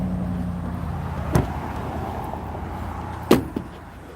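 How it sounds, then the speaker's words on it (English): Road traffic crossing a bridge near a spot where people are magnet fishing, heard as a steady low rumble with two sharper passing thumps or clanks from vehicles, moderately loud and with no talking. "We're going to have a little traffic now, a little traffic noise for a minute."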